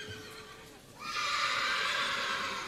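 A standardbred yearling horse at a sale ring lets out a loud, sustained neigh that rises sharply about a second in and holds bright and strong to the end, with faint hoof clops and no talk.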